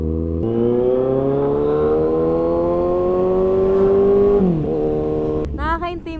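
A remapped Kawasaki Z1000 motorcycle accelerates hard, its engine note rising steadily in a loud, sustained howl for several seconds before dropping off, with a burst of changing pitch at the end.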